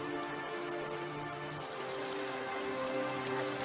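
Steady rain shower patters on a surface in a coastal setting, a soft continuous hiss of drops holding even throughout, ending in a sudden loud burst.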